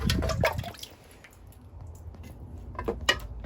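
Rainwater poured into a container holding a rooting plant cutting inside a greenhouse: a short splashy pour near the start, then a quieter trickle and a few light knocks close by.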